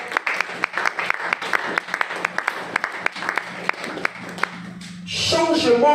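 Church congregation clapping together in rhythmic, evenly spaced beats, fairly close, followed near the end by a swell of voices and cheering.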